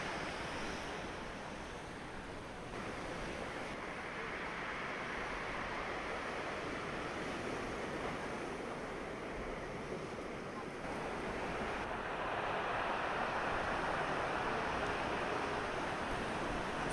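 Large ocean waves crash continuously on the Tenerife coast near Alcala, a loud broad roar of surf mixed with wind buffeting the microphone, swelling louder toward the end.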